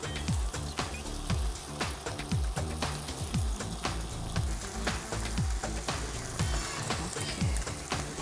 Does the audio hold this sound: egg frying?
yes